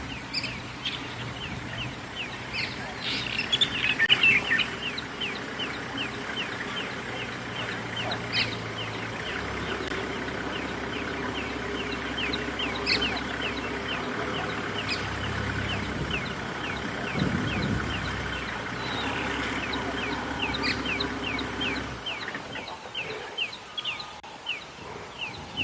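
Fork-tailed drongos give repeated alarm calls on an African safari at sunrise, a busy chorus of sharp, rapid bird notes at moderate distance over a low background rumble, continuing for most of the stretch before fading.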